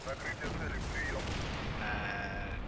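A Mark 19 grenade launcher on a Humvee in Combat Mission fires amid a continuous din of distant gunfire and dull explosions, with a constant rumbling battle backdrop.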